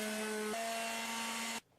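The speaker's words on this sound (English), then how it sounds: "lightly sand the edges as well" Light sanding along the edge of an oil-finished cherry wood countertop: a short, steady, close abrasive whir with a faint tonal hum that stops abruptly, with no speech.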